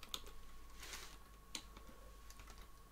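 Soft keystrokes on a computer keyboard, a few scattered clicks and short bursts of typing, quiet and close with no talking.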